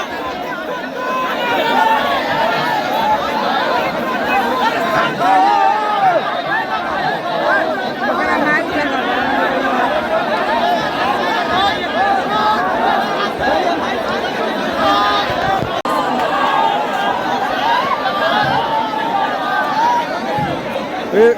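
A large crowd mills and chatters outside Manish Kashyap's house, a dense continuous babble of many voices with occasional laughter, loud and steady throughout.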